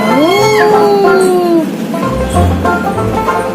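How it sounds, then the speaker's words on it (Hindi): A cat gives a clear, rising and falling meow close by, then a second shorter cry, while people talk in the background. "अनन्या को 3 बिल्ली देख रही है"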